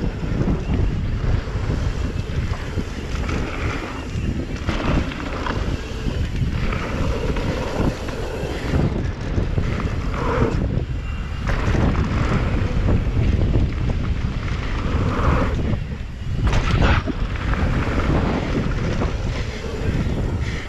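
Strong gusting wind roars across the microphone throughout a mountain bike descent on the A-Line trail at Whistler Bike Park, a loud, steady buffeting rush with surging peaks and no talk.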